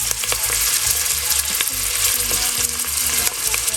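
Fresh garlic and red onion fry in a pan, a close, steady crackling sizzle with stirring scrapes, loud and continuous with no talk.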